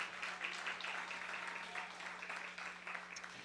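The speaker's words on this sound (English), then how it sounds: "give him a round of applause" Audience applause for a deputy director of Milwaukee County Health and Human Services at a Black Excellence awards event, a steady wash of many hands clapping throughout, fairly distant and even.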